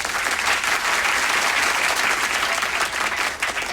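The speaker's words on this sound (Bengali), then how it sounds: "এদের সবার জন্য একটা জোরে করতালি" Loud, dense applause from a large audience after a stage presentation in a dubbed Turkish drama, sustained and steady throughout with no break.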